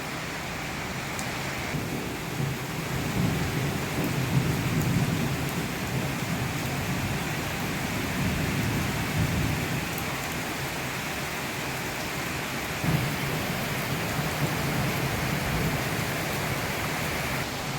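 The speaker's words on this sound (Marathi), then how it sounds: "पाऊस अत्यंत जोरात पडत आहे" Heavy rain pours steadily in a dense, hissing wash during a windstorm in Solapur, with deep rumbles of thunder rolling underneath.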